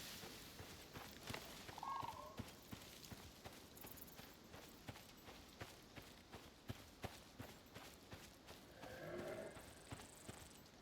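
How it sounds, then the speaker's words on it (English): A horse moves nearby in the survival game Icarus, giving a steady run of soft clip-clop hoof thuds over faint outdoor ambience, with a couple of brief louder chirps or calls. "It's one of those horses over there."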